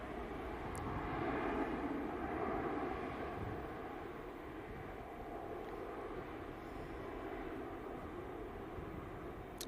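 Juneyao Airlines airliner in colourful petals livery departing Manchester for Shanghai, a faint, distant, steady jet rumble that swells slightly and then holds even, with no voices.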